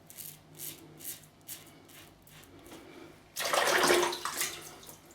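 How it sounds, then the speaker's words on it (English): Cold water from a bathroom tap gushes into a sink after a wet shave, a sudden steady splash that starts midway and stays fairly close, preceded by soft intermittent rubbing and dabbing sounds. "I'll put some cold water on it."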